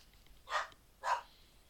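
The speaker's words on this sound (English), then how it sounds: "Sorry, bark alert." A dog barks twice, two short muffled woofs about half a second apart, faint and somewhat distant in a quiet indoor room.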